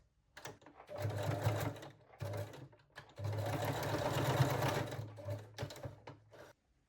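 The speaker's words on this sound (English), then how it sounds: "You can use straight or zigzag stitch and just sew it in a place." A domestic sewing machine stitches a bralette seam in straight or zigzag stitch, running in several bursts of rapid mechanical chatter with short pauses between them, close and clear.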